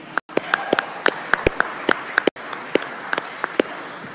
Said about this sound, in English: Let's have a round of applause for Susan.